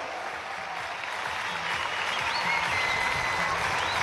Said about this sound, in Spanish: Deme el aplauso a los Stewart